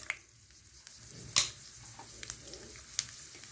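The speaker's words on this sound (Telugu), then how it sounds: "ఇప్పుడు నేను పోపు వేసేస్తాను." Mustard seeds, cumin, dried red chillies and urad and chana dal hit hot oil in a pan for a brinjal and peas curry, a soft sizzle with a sharp burst of spattering and a few later pops.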